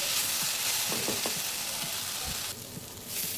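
Kolhapuri misal masala roasting in a pan: a loud, dense frying hiss with several soft scraping stirs and taps, easing briefly near the end before the sizzle swells again.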